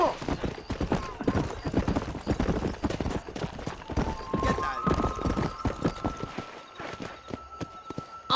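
Horse in Red Dead Redemption galloping off, hooves clip-clopping in a rapid, steady rhythm close by, with a voice calling out and talking over the hoofbeats.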